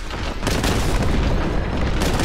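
A loud, sustained explosion roars through Warhammer 40K: Boltgun combat, a dense booming blast that fills the whole stretch with rumble and debris crackle and no pause.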